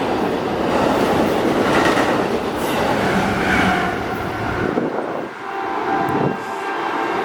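A loud Amtrak passenger train rumbles past close by with a steady roar and rattling wheels, fading slightly toward the end.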